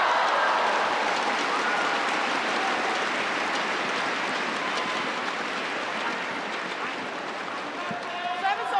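Badminton crowd at the Singapore Open 2019 semi-final applauding in a sustained, loud patter of clapping that slowly thins toward the end, with a commentator's voice faintly underneath.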